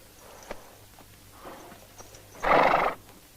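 A horse in a 1970 spaghetti western gives a loud, brief whinny near the end, with faint hoof clops and scattered knocks before it against a quiet background.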